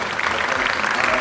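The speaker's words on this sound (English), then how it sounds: "So we want to give them a round of applause" Audience applause at an early signing day ceremony for two baseball players, a dense, steady patter of many hands clapping at once, close and fairly loud, lasting just over a second.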